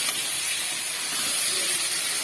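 Marinated chicken frying in hot oil with masala makes a loud, continuous hiss that stays constant throughout.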